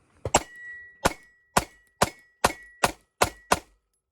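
Glock 43x MOS pistol firing a string of about eight sharp, loud shots in an uneven, fairly quick rhythm, each crack close and distinct with short gaps between, finishing off a magazine after a malfunction.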